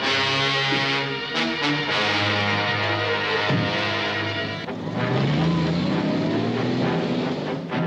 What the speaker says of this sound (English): Sounds like my motor being revved up